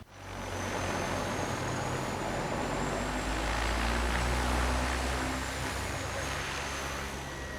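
An airplane drones steadily overhead, a loud continuous engine rumble with broad roar that holds for the whole stretch, swelling slightly in the middle, with no voices over it.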